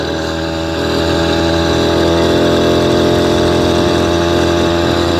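A motorcycle engine runs steadily on a long endurance ride of many straight miles, a loud continuous drone close to the microphone that rises slightly after the first second and then holds even, with no talking.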